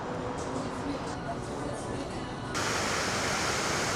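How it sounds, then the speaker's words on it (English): Waterfall at HemisFair Plaza by the Tower of the Americas in San Antonio, built in 1968 for the World's Fair, pouring as a steady broadband rush that grows louder and fuller midway, with faint voices beneath. "Isn't that a beautiful waterfall?"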